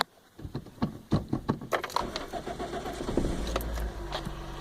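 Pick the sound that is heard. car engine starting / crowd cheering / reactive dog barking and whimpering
car engine starting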